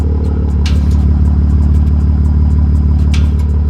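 A brand-new BMW M3 with a Dinan aftermarket exhaust idles and burbles with a deep, throbbing exhaust rumble, steady and loud, with a few clicking clatters on top.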